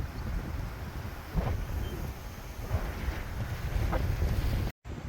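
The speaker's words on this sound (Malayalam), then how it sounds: "നല്ല കാറ്റും ഉണ്ട് കേട്ടോ." Strong wind buffets the microphone at a hilltop resort in Vagamon, a steady broadband roar with several louder gusts, close and continuous, cut by a brief dropout near the end.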